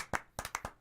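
Four sharp hand claps, close and dry, land in an uneven rhythm with short gaps between them and nothing else around them.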